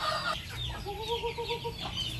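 Chickens cluck at a busy Thai market, close by, one bird giving a sustained rising call over steady crowd and market bustle.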